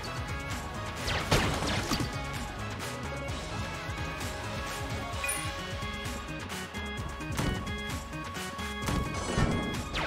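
Grenade blast in Enter the Gungeon, a sharp crashing burst near the start, then further smashing impacts amid dense, busy game noise and music, with no talk.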